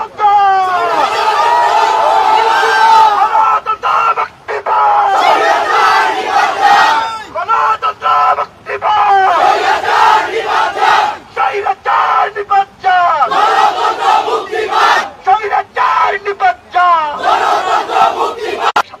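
A protest crowd of visual media artists in Dhaka chants a familiar slogan, loud and close, in rhythmic call-and-response bursts separated by brief pauses.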